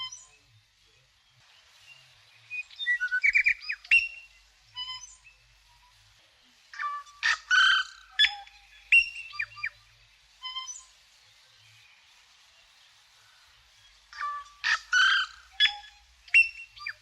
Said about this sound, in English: So this is a tui just feeding on some nectar, which they do like.